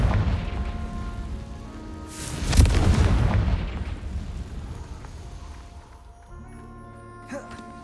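A Confringo spell explodes in the video game Hogwarts Legacy, a single loud booming blast that rises out of steady background ambience and then decays slowly into quieter game sounds.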